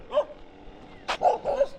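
Dog barking outdoors during a walk, a few sharp yips and barks in a quick irregular burst, fairly close and alone without talk.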